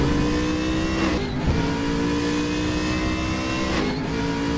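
A GT3 race car engine drones loud and steady at Circuit Zolder in the RaceRoom racing game, holding a continuous high rev under acceleration for several seconds without a pause.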